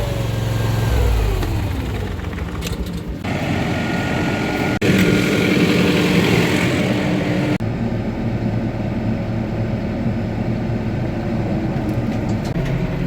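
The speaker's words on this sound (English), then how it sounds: "we're just gonna shut the tractor off" A nearby tractor engine runs loud and steady, its pitch dropping as it is shut off and winds down, then a lower continuous rumble carries on.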